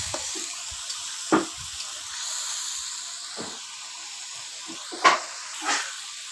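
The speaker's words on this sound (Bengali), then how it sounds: "মশলাটা পুড়ে দেবো।" Bengali masala spice paste frying in a pan with a little water for koi fish curry: a steady soft sizzling hiss, close and quiet, broken by a few brief stirring scrapes and clinks.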